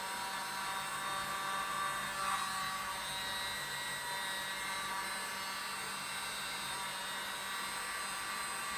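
A hair dryer or mini blower runs without a break, drying silver, pewter and metallic cobalt blue paint. A steady, fairly faint airy whoosh fills the whole stretch, and no one speaks.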